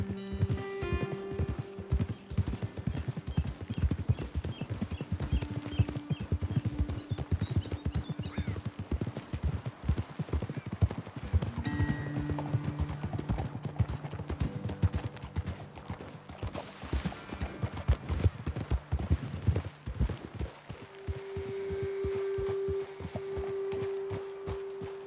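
Horses walking on a trail in the Red Dead Redemption 2 video game, hooves clip-clopping in a steady close rhythm for most of the stretch, with a snort or whinny and some ambient game tones, slowing near the end.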